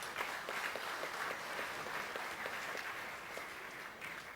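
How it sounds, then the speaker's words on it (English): A gala dinner audience applauds warmly, a steady patter of many hands, heard at a distance and quiet overall. "recognize with a warm round of applause"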